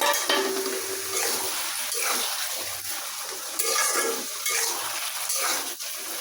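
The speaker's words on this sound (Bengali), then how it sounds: "আর এই যে টাকি মাছ ভাজা থুইছিলাম," Fried taki fish tipped into a hot pan with sugar and ground ginger-cumin paste, sizzling steadily with scraping stir sounds throughout, close and continuous with no talk.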